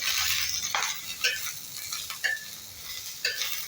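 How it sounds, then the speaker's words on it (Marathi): Green chillies roasting in a pan, a light crackling sizzle with intermittent scraping stirs, close and moderately quiet, with no voices. "तर सर्वप्रथम आपण मिरच्या भाजून घेणार आहोत, भाजून घ्यायचं"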